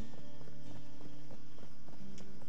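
Horse hooves clip-clopping in Black Desert Online, a steady run of close, evenly spaced thuds over a constant low game hum, with no voices.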